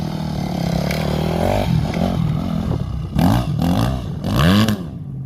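A Yamaha 250 YZF four-stroke motorcycle engine revs in loud, rising bursts, with two strong throttle blips near the end before it drops away, recorded close by.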